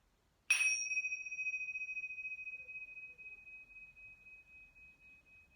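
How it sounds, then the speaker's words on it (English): A single strike on chimes rings out in a quiet room, a bright clear metallic tone that starts sharply and then sustains and slowly fades over several seconds, alone and fairly soft. "I'm going to make a sound with the chimes that I've brought."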